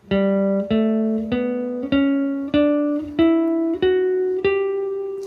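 A guitar plays a rising Lydian mode scale, eight plucked notes at an even pace, each ringing clearly before the next, with no talking.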